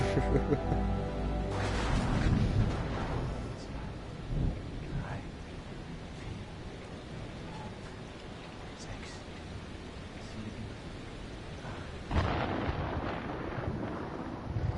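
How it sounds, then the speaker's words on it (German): A thunderstorm rumbles in the Man of Medan video game, with deep thunder rolls near the start and a sharp crack late on over a continuous rain-like hiss. "Der Sturm ist 8 Meilen weg."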